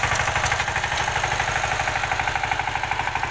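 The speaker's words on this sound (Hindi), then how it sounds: "देखिए कैसे चल रहा है ट्रैक्टर, ये देखिए कैसे ट्रैक्टर चल रहा है, मतावा कर रहा है।" Rhino tractor running while tilling a field, its engine giving a loud, steady, rapidly pulsing diesel chug with even rhythmic knocking, close up and continuous.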